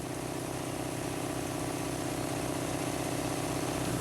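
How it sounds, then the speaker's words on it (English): Crack sealer's engine running while its pump sucks solvent out of the system into a bucket, a steady close mid-pitched idling drone with a fast even pulse, unbroken throughout and without talk. "The pump will suck the solvent out of the system and into the bucket."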